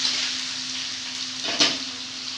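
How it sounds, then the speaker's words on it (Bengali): Steady sizzle of dalia cooking with capsicum in a pan, with a brief scrape of stirring near the end, close and continuous. "এবার সেদ্ধ হওয়া পর্যন্ত নাড়িয়ে নেব।"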